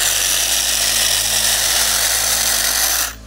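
Hedge trimmer buzzing steadily and loudly while cutting a hedge, a continuous close motor drone that cuts off abruptly at the end.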